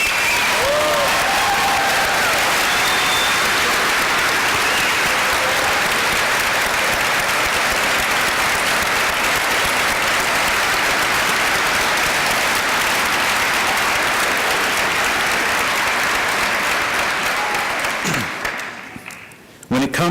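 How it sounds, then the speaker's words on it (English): Sustained, loud applause from a graduation ceremony audience for faculty, staff and administration, continuous dense clapping for nearly twenty seconds that drops off abruptly at the end. "I think we need to give a round of applause to each member of the faculty, staff, and administration"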